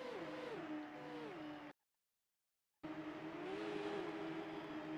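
IndyCar race cars roaring at a race start, engines loud and close with pitch sweeps as they rev and shift, cut by a sudden gap of total silence before the engine roar resumes.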